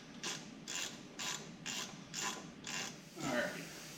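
A hand ratchet clicks in six or seven quick, even bursts while tightening rear brake bolts on a Ford Crown Victoria, close and clear, followed by a brief creak, with no talk.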